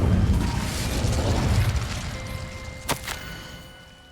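An Incendio fire spell cast in Hogwarts Legacy: a dense, roaring whoosh of flame fills the opening seconds and then fades away, ending with a short crackling burst and a faint ringing tone.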